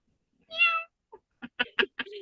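A pet cat gives a clear, close meow, followed by a few short, quieter chirping mews with brief pauses between them, in a quiet room.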